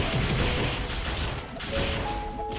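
Heavy artillery skill in Mabinogi fires in a dense barrage of rapid booming shots with mechanical clatter, loud and continuous over the short span.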